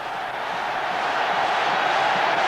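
A football stadium crowd roars for a penalty at a 1992 preseason match, a loud, sustained wall of massed voices that swells slightly toward the end.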